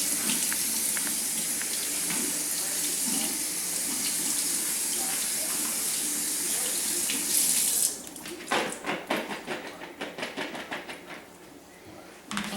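Tap water runs in a steady, close rush while okra is rinsed, then cuts off after about eight seconds, leaving a few clinks and clattering knocks of handling.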